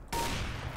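A single sharp gunshot from the video game CS:GO bursts in after a brief quiet start and rings out loud and close, with its tail fading over the remaining moment.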